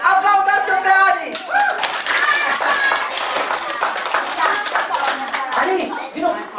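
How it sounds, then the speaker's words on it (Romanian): Audience at a community children's dance ensemble performance clapping for a young performer, loud close hand claps that thicken into applause, mixed with cheering and children's voices throughout. "Aplaudați-o pe Ani!"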